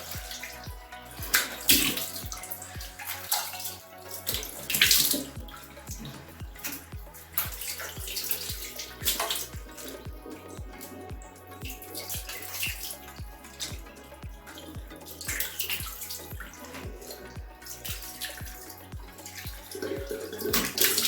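Tap water runs and splashes steadily into a sink as a face mask is rinsed off, with irregular splashing bursts from hands scooping water, close and fairly loud.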